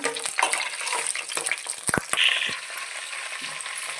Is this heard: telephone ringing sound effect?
no